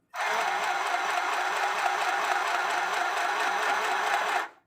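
A mini sewing machine runs in one steady continuous whir, stitching without a break for about four seconds before stopping, loud and close with no talk.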